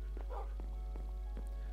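Dogs in the game Minecraft give several short, evenly spaced barks over a steady low hum, fairly faint and without speech.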